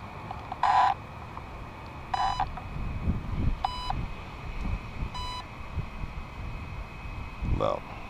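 An RC car's electronic speed controller gives a series of short, clear electronic beeps, four evenly spaced tones and then a fainter one, over low background rumble and handling noise.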